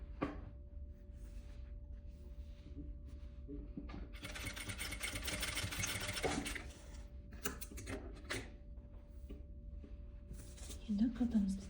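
Sewing machine stitching a boy's vest runs in a fast, rattling burst mid-clip, close and fairly loud, with softer mechanical clicks and handling before and after; someone speaks over parts of it.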